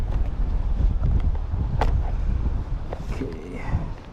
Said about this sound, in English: Getting a little windy now